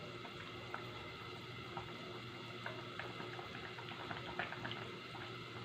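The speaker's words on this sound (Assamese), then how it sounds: "এতিয়া মই এইখিনি উতলিব দিছোঁ" Fish curry simmers in a pot, a steady soft bubbling with small pops scattered through it. The sound is continuous and fairly quiet.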